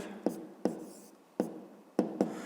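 A pen taps and scratches out a fifth-grade math solution on paper, with several sharp strokes at an uneven pace, close and quiet and alone.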